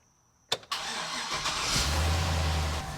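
A truck engine cranks and catches with a sharp start, then settles into a steady running idle with a low hum, close by and alone.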